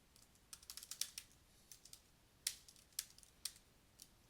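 Soft keystrokes tap on a computer keyboard while code is edited, in scattered clusters and single presses, close but faint, with no talking.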